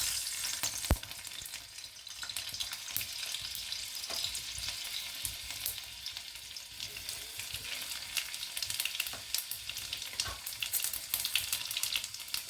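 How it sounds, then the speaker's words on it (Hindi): Garlic and cumin sizzle vigorously in hot oil for a tempering, a dense, steady crackle and spit close by, with occasional stirring sounds and no talking. "तो तेल गरम हो चुका है और मैं सबसे पहले इसमें लहसुन और जीरा का तड़का लगाऊंगी"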